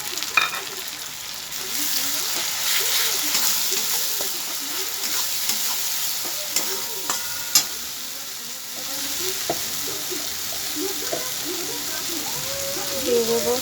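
Spices and fried onions sizzle loudly in a pan for a spicy pomfret curry, with repeated stirring scrapes and a steady hiss running through, and no talking over it.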